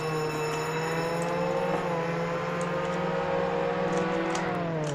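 Engine of a McLaren car in the Roblox Jailbreak video game, a steady synthetic motor drone with sustained harmonic tones that rise slightly in pitch, heard alone and continuously throughout.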